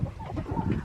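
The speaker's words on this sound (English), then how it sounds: "8 hens in here, and they're already laying." Hens clucking in a small henhouse of eight laying birds, a brief burst of soft, close, overlapping clucks and murmurs, lasting under a second with no talk.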